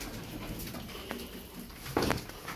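Tumbler pigeons coo softly in a loft, a faint low murmur of cooing with a brief flutter or rustle near the end, no one speaking.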